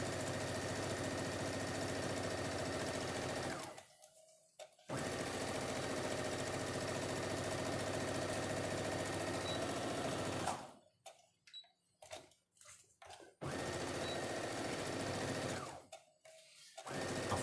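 A sewing machine stitches the sleeves of a small doll's coat in long steady runs, broken by a few short pauses and a quick stop-start burst near the end, with no talking.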